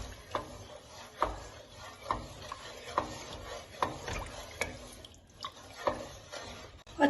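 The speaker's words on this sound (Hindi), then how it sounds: "जब तक लस्सी को उबाल आए तब तक आपने चम्मच को हिलाते रहना।" A spoon stirring lassi as it heats toward a boil for kadhi, making regular soft scraping and clinking strokes against the pot at a steady rhythm over a faint bubbling background, with no voices.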